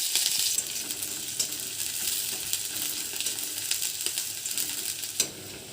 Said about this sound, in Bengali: কিছুটা পেঁয়াজও ভেজে নেব